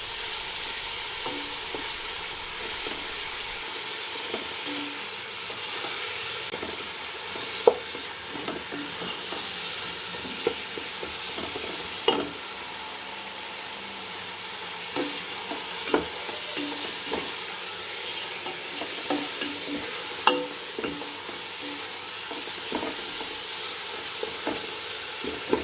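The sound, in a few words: curd and spice paste cooking and being stirred in a pan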